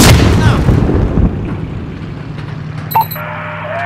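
Missile launch in Call of Duty Modern Warfare (2019): a loud, heavy blast opens the clip, then a rumbling tail fades for a few seconds, with faint radio-style beeps near the end.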